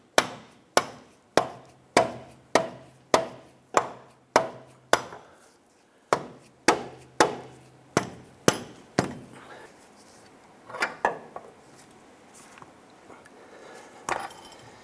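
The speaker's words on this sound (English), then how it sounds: "I'm going to use a deadbolt hammer on the outside of the axle here so I don't damage the threads." Dead blow hammer striking the outside of a front axle on a 2015-2020 Cadillac Escalade, a run of sharp, evenly paced knocks in two bursts, close and loud, then a few scattered softer taps.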